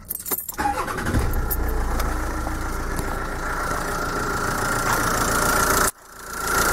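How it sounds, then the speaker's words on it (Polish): A car engine cranks and catches in a brief burst, then settles into a steady, close idle hum that runs for several seconds before a sudden dip near the end. "I nasz pojazd mamy odpalony."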